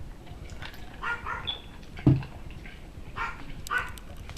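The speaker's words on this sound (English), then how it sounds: "This stupid dog, man. Apologize, it's barking for no reason." A dog barks once, sharp and fairly close, amid quieter whimpering and rustling sounds in a room with no one talking.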